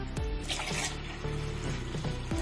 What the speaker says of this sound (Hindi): इसमें हम एक गिलास पानी डाल देंगे